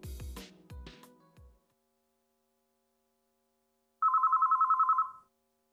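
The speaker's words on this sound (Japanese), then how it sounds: "電話？" A telephone rings late at night indoors: a single clear trilling burst of rapid bell pulses lasting about a second, following a few dull knocks and then silence.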